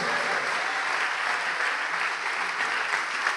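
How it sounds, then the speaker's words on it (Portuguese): A church congregation applauds during a Portuguese-language worship service, steady, dense clapping from many hands that carries evenly throughout without a break. "Vamos aplaudir ao nome de Jesus"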